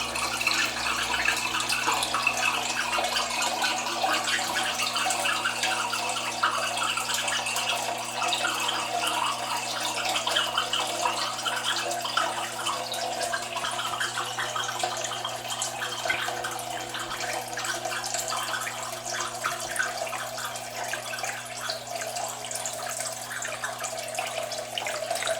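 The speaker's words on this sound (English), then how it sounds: "See the flow, and the water level is dropping quite quick" Water draining steadily through an automatic bell siphon in an aquaponics grow bed, a continuous close rushing gurgle under a low constant hum, with no talk.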